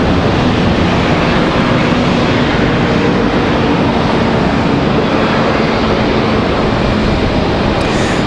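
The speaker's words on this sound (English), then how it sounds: "As Delta Connection makes their turn off the taxiway." A Delta Connection regional airliner turning off the taxiway at Charlotte Douglas airport, a broad steady roar of jet engines with a faint hum running throughout, close and continuous.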